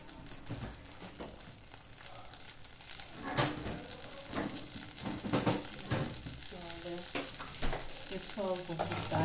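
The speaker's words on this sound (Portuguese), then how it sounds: "vou fritar esse macarrão, tá? Vou fritar ele aqui, olha, na margarina" Noodles frying in margarine in a pan, being stirred for a fried noodle soup: a steady close sizzle runs through the whole clip, broken by scraping stirs and utensil knocks.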